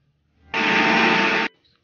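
A mixer grinder whirs through boiled nettles and a little water in a single loud, steady burst of about one second that starts and stops abruptly, with quiet before and after.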